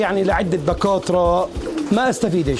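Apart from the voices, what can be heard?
pigeons cooing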